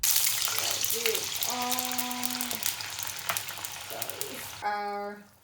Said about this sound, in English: And put 1 cup of water.